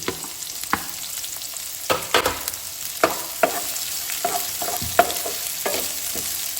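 Onion and green chilies fry in oil with a constant hiss, punctuated by repeated sharp scrapes and clacks of a spoon stirring the pan at an irregular rhythm.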